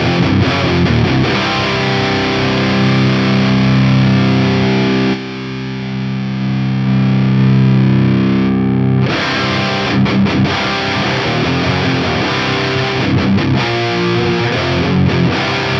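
Electric guitar through a Line 6 Helix amp model with a room reverb, loud distorted chords and riffs, with one held chord ringing out in the middle before the playing resumes.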